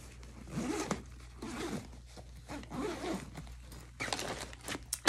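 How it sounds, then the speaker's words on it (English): A zipper on a travel bag packed with lash products is drawn in four or five quick, close rasping pulls separated by short pauses. "I will zip that in."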